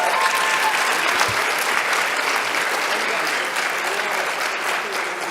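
An audience applauds automotive internship students at a school career and technical education awards night, steady dense clapping filling the room without a break and easing slightly toward the end.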